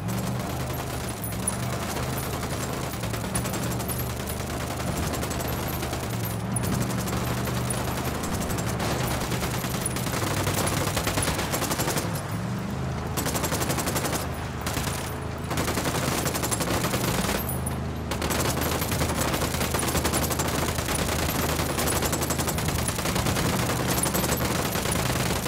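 Sustained automatic gunfire from Ghost Recon Wildlands rattles on in dense, loud volleys for the whole stretch, with only brief thinner gaps between bursts.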